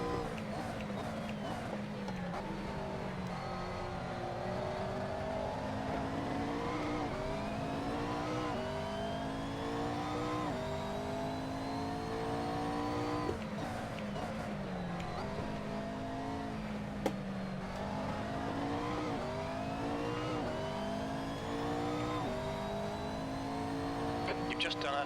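A McLaren GT3 race car engine in a racing simulator at Donington revs up and down through gear changes, a continuous rising and falling whine with steady intensity.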